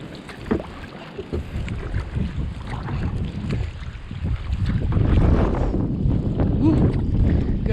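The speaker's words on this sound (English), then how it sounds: "Gust of wind almost took the paddle out of my hand." A gust of wind rushes over an open microphone while kayaking on Slocum Creek in Havelock, North Carolina, a steady roar that swells louder halfway through, with paddle and water sounds and brief voices mixed in.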